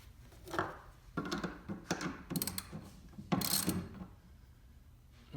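Flange nut being tightened onto a steel wall bracket for a profile rack, heard as a series of close metallic clicks, ratcheting and clanks in short irregular bursts.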